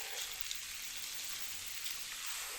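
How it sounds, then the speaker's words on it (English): A soft, steady sizzle of food frying in a pan, even and hissing throughout, with no voices. "Now place the chicken in. You should hear that nice sizzle right away."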